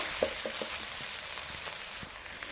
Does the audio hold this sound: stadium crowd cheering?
no